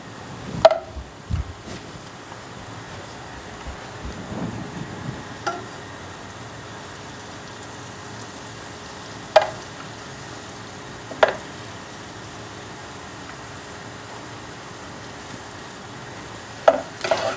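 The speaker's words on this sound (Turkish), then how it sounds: "Yağımız eridikten sonra unumuzu ekleyeceğiz. Öyle bir süre kavuracağız sanırım." Flour roasting in melted butter in a pan, stirred with a spoon: a soft, steady low sizzle with occasional sharp clicks of the utensil against the pan, quiet and close, with no talking.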